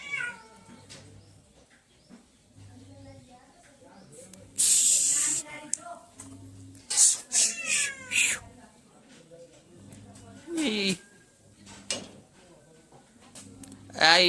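A cat meows in a home, giving several loud, strained cries and hissing bursts at irregular intervals, while a person talks quietly at times in the background.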